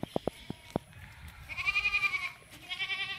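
Goats on a farm, first a few short sharp knocks or steps, then a loud, wavering, drawn-out bleat followed by another bleat, close by and alone.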